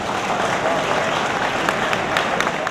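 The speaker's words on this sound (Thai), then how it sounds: "ผมอยากจะให้ทุกคนช่วยปรบมือเป็นเกียรติให้กับโปรโมเตอร์จัดศึกในวันนี้" Continuous applause from a crowd at a Thai boxing event, many hands clapping evenly and fairly loud for the whole stretch.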